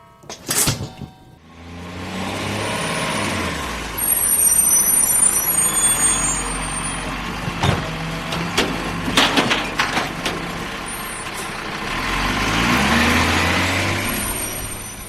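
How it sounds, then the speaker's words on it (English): A rubbish truck and a recycling lorry pull up, a loud rumbling engine with sharp hissing bursts of air brakes and clanks, steady heavy vehicle noise filling the scene with no talking. "I'm glad the rubbish truck and recycling lorry have just come."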